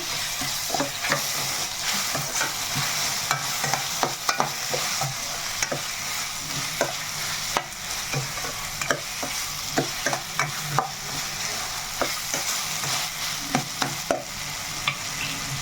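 Green masala paste frying in a pan for a dried prawn, drumstick and tomato curry, with a steady close sizzle broken by frequent scraping stirs of the spoon through roughly fifteen seconds.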